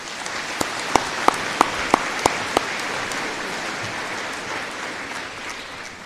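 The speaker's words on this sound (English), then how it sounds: "Please join me in a round of applause for them." An audience applauds college trustees at a formal gathering, a steady patter of many hands. A run of sharper, louder claps stands out near the front early on, then the applause settles into an even wash.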